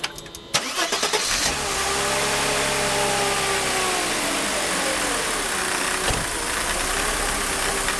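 A Mercedes M104 engine with a faulty throttle-body wiring fault cranks briefly, catches and settles into a steady idle with a low rumbling tone, heard up close and alone.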